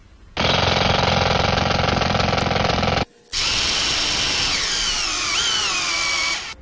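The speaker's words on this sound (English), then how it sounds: "I'm going to use a drill on these because I want them to look a little nicer" A power drill bores holes through a board in two loud bursts, the first a steady whining grind, then a short pause before a second run whose pitch shifts as the bit bites through the wood.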